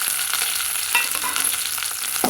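Small onions and curry leaves sautéing in a hot pan for curry-leaf kuzhambu, a steady close sizzle with light stirring scrapes, no talking.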